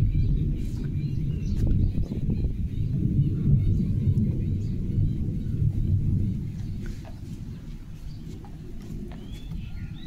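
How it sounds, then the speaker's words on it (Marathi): Deep thunder rumbles low and continuous from a distance during a monsoon evening rainstorm, easing slightly toward the end. "गरजत आहे आभाळ किती"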